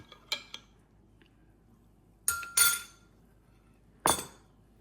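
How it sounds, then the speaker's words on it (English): A spoon clinks against a glass while stirring a milk and matcha latte, with a few sharp taps early on, then a cluster of louder clinks and a final ringing strike, set against quiet surroundings. "And stir it up."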